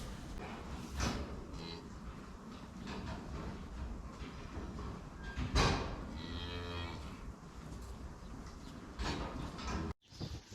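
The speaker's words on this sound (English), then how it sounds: "This is the cow that prolapsed the other night." A cow on a French cattle farm during calving season, one that recently prolapsed, moos once in a long drawn-out call amid steady barn background noise.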